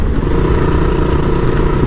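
A motorcycle engine runs close and loud, with a steady low rumble held throughout and slight fluctuations in throttle, with no voices over it.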